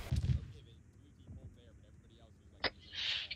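A frag grenade goes off in a military shooter video game, a muffled thump among faint crackles and distant shots, with a louder burst of noise near the end; a voice is heard early.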